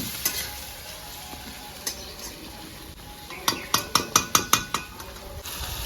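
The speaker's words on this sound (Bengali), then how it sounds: "পেঁয়াজটা আমার ভাজা হালকা হালকা। 4টে শুকনো লঙ্কা দেবো।" Onions, potatoes and whole dried chillies fry together in a pan for a rustic village-style chicken curry: a steady sizzle, then a quick run of about eight sharp metal spatula clacks against the pan near the end.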